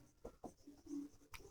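Chalk or marker taps and scratches briefly across a classroom board, a few short strokes close by and faint.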